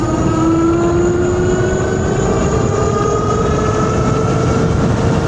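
A Kingbull Voyager 2.0 electric bike with a new controller runs at full throttle, its motor giving a steady rising whine over constant road and wind rumble, loud and close, with no talking.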